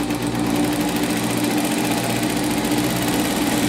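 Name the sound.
sewing machine stitching a folded seam allowance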